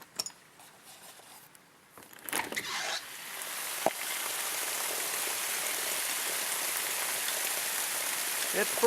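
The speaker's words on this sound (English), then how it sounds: "I wanted you to hear that rain." Steady rain falls and builds into a dense, even hiss on surfaces after a few sharp knocks and rustles at the start.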